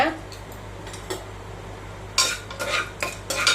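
Mustard seeds and chana dal crackle in hot oil in a pressure cooker, sending out scattered soft pops and sputters. Quiet background noise fills the gaps, and the bursts come closer together and grow louder toward the end.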